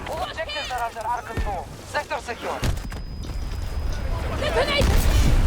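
A heavy in-game explosion from Battlefield 2042 rumbles up near the end, a loud, broad boom that swells and lingers, after a player speaks excitedly over background gunfire and battlefield noise.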